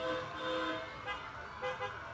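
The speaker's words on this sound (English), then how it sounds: "Are they honking?" Car horns tooting at a Christmas parade of lights, several short honks heard at a distance over a faint background of traffic and music.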